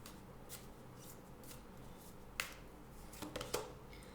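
Oracle cards from a Language of Colors deck are shuffled before one is drawn, with a few faint, quick papery riffles and soft slaps in a quiet room.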